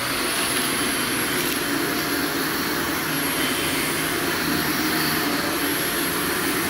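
A carpet cleaning machine with a canister runs steadily while removing cat urine from carpet, giving a loud, constant whooshing drone with a high whine on top, close up and uninterrupted, with no talking.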